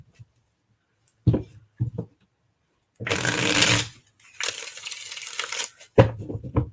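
Tarot cards being shuffled close up: a few soft taps, then two bursts of riffling, a brief pause between them, and a final tap.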